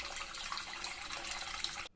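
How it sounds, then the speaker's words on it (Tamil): Tap water running steadily into a sink to fill a vessel for washing cut cauliflower, a broad continuous splashing rush that stops abruptly near the end. "க்ளீன் பண்ணுறதுக்கு தண்ணி பிடிச்சிட்டு"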